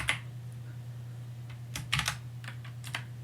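Keystrokes on a computer keyboard while coding a Pong game in Pygame, a scattered run of light clicks near the microphone over a steady low electrical hum, with a small cluster of taps around the middle and a few more toward the end.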